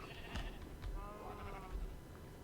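Sheep on a farm in the game Minecraft bleat several times in a row, wavering calls at a steady moderate level over low background hiss.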